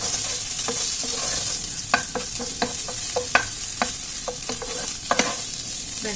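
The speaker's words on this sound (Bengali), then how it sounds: "এবার নেড়ে চেড়ে নেবো একবার। এবার আমি কাঁচা লঙ্কা কুচিগুলো দিয়ে দেবো।" Chopped green chillies fry in a pan under a steady sizzle, while a utensil stirs and scrapes with a run of sharp clicks and knocks. No voices.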